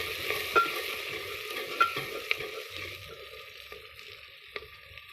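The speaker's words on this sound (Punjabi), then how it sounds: "ਇਹਨੂੰ ਚੰਗੀ ਤਰ੍ਹਾਂ ਹਿਲਾ ਦਾਂਗੇ ਤੇ ਟਮਾਟਰ ਵੀ ਆਪਾਂ ਕੱਟ ਲੈਤਾ ਸੀ ਇਹ ਵੀ ਚੰਗੀ ਤਰ੍ਹਾਂ ਆਪਾਂ ਇਸ ਦੇ ਵਿੱਚ ਪਾ ਕੇ ਮਿਕਸ ਕਰ ਦੇਵਾਂਗੇ" Chopped tomatoes get stirred into mustard greens for sarson da saag in a pan over a wood-fired chulha, a steady low sizzle with a few sharp scrapes of the spoon against the pan, close and without any talk.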